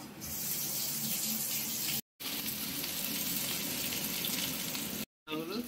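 Ginger and five-spice seeds hit hot oil for a Bengali tengra fish curry and sizzle loudly and steadily close by, with two short silent gaps in the frying.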